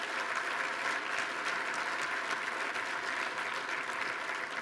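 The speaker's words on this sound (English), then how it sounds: "let's give them a round of applause" An indoor conference audience applauds the association staff with dense, steady clapping that stays loud and even throughout, with no voices over it.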